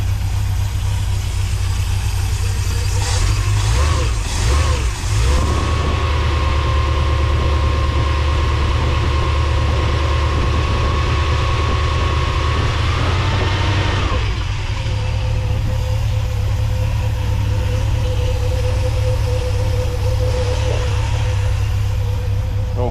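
A truck engine with a freshly repaired exhaust runs steadily at idle, a loud continuous rumble with a brief rise in revs partway through and no talk over it.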